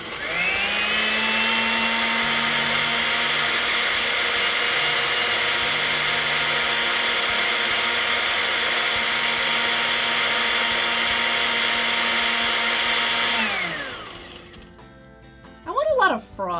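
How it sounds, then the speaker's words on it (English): A Waring blender whirs steadily at high speed mixing a tropical drink, loud and constant for about fourteen seconds before winding down, followed by brief speech. "I'm going to blend in our Waring blender"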